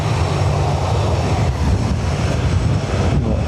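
Aer Lingus airplane at Dublin Airport, a loud continuous jet engine roar with broad rushing noise and a steady low rumble, close and unbroken for the whole stretch, no voices.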